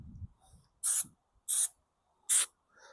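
Spray glue is applied over carpet inside a bus camper conversion, three short, sharp hissing bursts about a second apart, close and loud against near silence.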